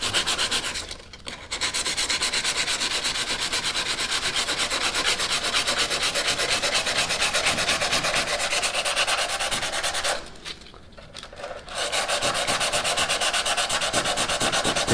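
Sheet of 180 grit sandpaper rubbed steadily back and forth over the lacquered top lip of an oak piece, a close, continuous rasping scrub with two brief pauses.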